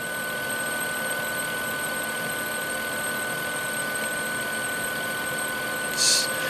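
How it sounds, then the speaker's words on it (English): An HP StorageWorks 1/8 tape autoloader's PWM motor drive whines steadily with sustained high tonal notes, a constant mechanical hum running throughout and a brief brighter burst near the end. "you can actually hear like the PWM motor drive playing like musical notes, like as it revs up in speed"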